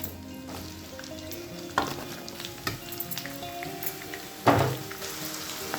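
Onions and green chillies fry in a pan with a continuous close sizzle, punctuated by a few louder bursts as ingredients are dropped in and stirred; no one speaks.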